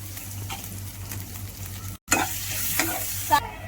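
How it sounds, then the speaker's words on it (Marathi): A vegetable filling of mashed banana and coriander for Jain wada sautés in a pan, with a soft steady sizzle and scraping stirs, broken by a brief silent gap before the frying resumes a little louder. "परतून घेऊया।"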